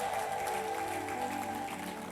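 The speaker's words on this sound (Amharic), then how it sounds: "እልልታና ጭብጨባ" A church conference audience bursts into sustained applause mixed with high, trilling ululation, a dense and steady wall of crowd noise that holds for about two seconds.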